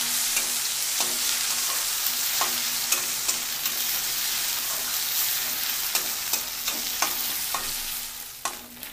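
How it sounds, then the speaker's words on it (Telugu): Ginger garlic paste frying in hot oil for a pepper chicken dish, giving a steady close sizzle with scattered light clicks of stirring throughout, and no voices. "అల్లం వెల్లుల్లి పేస్ట్ కూడా ఈ ఆయిల్లో కొంచెం వేగాలి"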